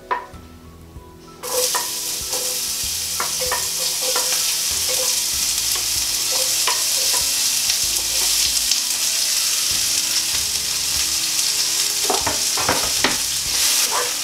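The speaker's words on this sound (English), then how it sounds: "So this will undoubtedly sizzle. So the onions are going to go straight in there." Onions for an aubergine masala hit hot oil and sizzle loudly and steadily, with occasional clacks of a utensil stirring them around the pan.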